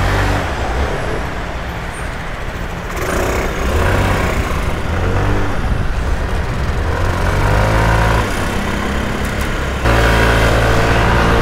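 An ST200 scooter engine while riding through Athens traffic, a steady close droning motor that shifts pitch as it speeds up and slows, with surrounding road noise and a few gear or throttle changes.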